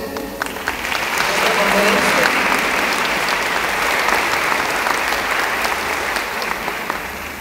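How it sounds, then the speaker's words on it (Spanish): Sustained applause from a congress audience honouring the speakers, a dense, steady roar of many hands clapping at once that swells early and holds at full strength, with a little crowd noise mixed in. "un fuerte aplauso a todos los ponentes que estuvieron en este congreso"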